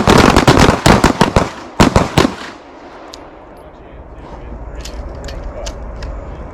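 Rapid volley of loud gunshots fired close by during a low-light shooting class, about nine sharp reports in quick succession over two seconds, then echoing range ambience and faint distant shots.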